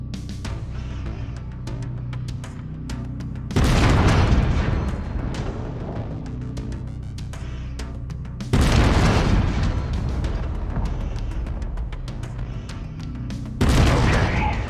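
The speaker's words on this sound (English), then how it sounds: "I've mapped the autocannon to Weapon Group 1. You're free to fire whenever you're ready." Three heavy autocannon salvos from a mech in MechWarrior 5, each a loud booming burst that rolls into a long rumbling decay over a steady engine hum, spaced several seconds apart.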